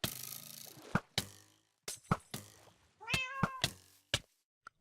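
The Wither Cat mob in the Minecraft Direwolf20 1.7.10 modpack meows several times, with sharp thumps and clatter between the calls; the meows are close and loud and no one speaks.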